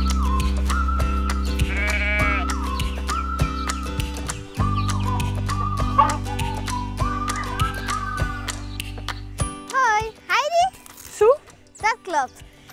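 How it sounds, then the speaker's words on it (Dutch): Sheep bleat on a Dutch farm, several wavering cries that come close together in the final seconds, after a stretch where people talk over steady background noise. "Ik heb schapen."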